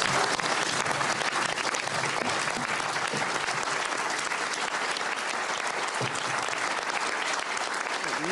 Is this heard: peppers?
no